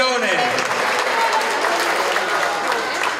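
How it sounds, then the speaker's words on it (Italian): Outdoor audience at a pizza festival applauding, a sustained wash of clapping with a voice speaking briefly at the start. "facciamo un grande applauso di pronta guarigione"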